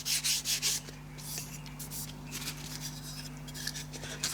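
Sandpaper is rubbed by hand over a lamp during finishing of a pair of DIY mid-century modern bedside lamps, giving soft, uneven scratchy strokes at close range and low volume over a steady background hum.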